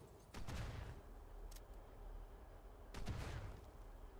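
A cannon fires at infantry in the strategy game The Great War: Western Front, with two booming shots a few seconds apart, each trailing a rumbling decay over quiet battlefield noise.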